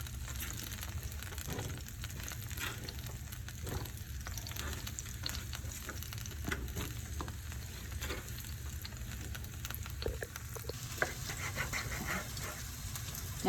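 Peppers and onion frying in a pan for pepper steak, a steady close sizzle and crackle running throughout with occasional scrapes and stirring clinks, no talking.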